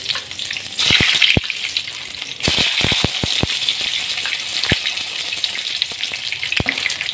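Scored eggplant pieces fry in hot oil in a kadai for Hyderabadi bagarey baingan, giving a strong, steady hiss broken by sharp pops and spatters that come in short bursts.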